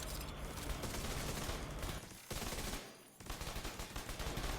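In a looter-shooter video game, a turret fires bullets in a dense, continuous barrage of rapid gunfire. The volley breaks off briefly twice before it resumes, and it sounds loud and close.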